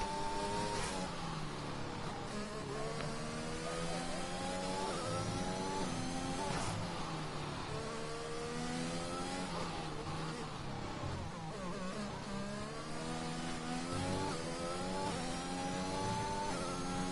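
Race cars lapping a track in a racing video game, several engines droning and revving together in a continuous, dense, steady roar with no voices.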